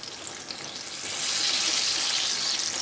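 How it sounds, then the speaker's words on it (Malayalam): Oats-coated banana slices frying in hot oil for crispy Kerala-style banana fritters, a steady bright sizzle that swells louder after the first second and holds close and continuous. "അത് നമുക്കിനി ഓരോ ഭാഗം മറിച്ചിട്ടിട്ട് നമുക്ക് അത് ഫ്രൈ ചെയ്തെടുക്കാം."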